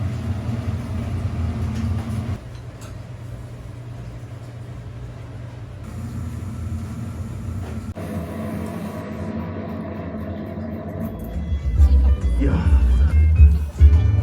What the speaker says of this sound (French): je pense que vous n'entendez rien avec le bruit de la circulation